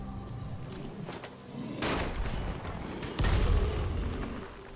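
Kurt's bomb goes off in the Dying Light: The Following zombie game, with two deep booms a little over a second apart rolling over a steady background rumble.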